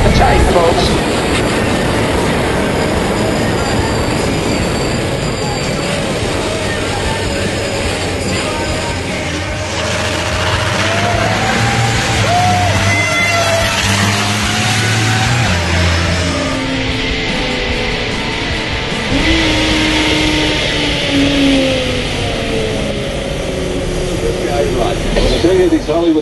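The Banks Super Turbo race semi, a big-rig gymkhana drift truck, climbs Pikes Peak at full power. The loud engine roar rises and shifts pitch throughout, with commentators talking over it.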